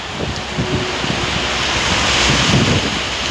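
Strong wind during rain in Saudi Arabia buffets the microphone in a steady, loud roar, with a rushing sound like surf underneath.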